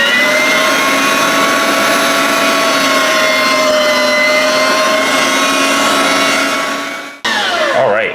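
Meat grinding for steak burgers: a loud, continuous high-speed motor whine holds steady for about seven seconds, then briefly cuts and restarts with a falling pitch.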